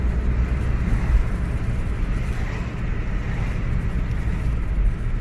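Inside a Ford such as a Focus, C-Max, Kuga or Mondeo cruising at constant speed on adaptive cruise control, a steady low road and engine rumble fills the cabin evenly throughout, with no voices.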